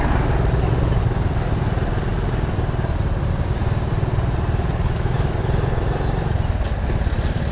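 Motorcycle engine running steadily during a ride, a continuous loud drone with wind rumble throughout and no voices.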